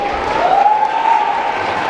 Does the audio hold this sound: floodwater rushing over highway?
no